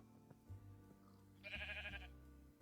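A pink sheep in Minecraft gives one clear, wavering bleat lasting about half a second, standing out over a soft low game background hum.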